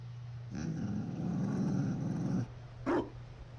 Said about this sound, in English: Yeah, it's a Mabari.